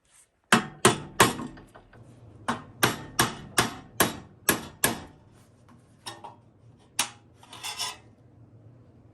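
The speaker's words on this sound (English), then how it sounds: "we're going to use kind of a junk wood chisel that I have for cutting slots in metal" An old wood chisel is struck with a hammer to cut slots in metal for a motorized bicycle part. About fourteen sharp, ringing blows land close by in quick bursts with brief pauses between them.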